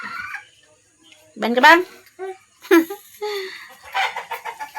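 Chickens at feeding time give several loud, close squawking calls in separate bursts with short pauses between them, while a person talks nearby.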